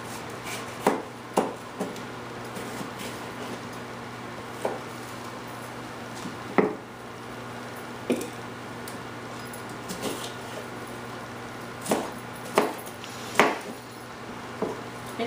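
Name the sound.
knife chopping bell pepper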